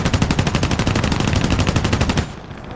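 Rapid machine gun fire from a Grumman F4F-3 Wildcat fighter in War Thunder, a loud continuous burst of evenly spaced rounds for about two seconds that stops abruptly, leaving a quieter background hum.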